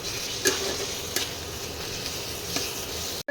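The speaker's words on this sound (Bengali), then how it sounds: "এইবারে ভালো করে মশলাটাকে কষাতে হবে যতক্ষণ না মশলা থেকে তেলটা আলাদা না হয়।" Spice paste with Kashmiri chili powder sautéing in oil in a pan, a steady soft sizzle with a few light stirring ticks, close and alone, cut off abruptly at the end.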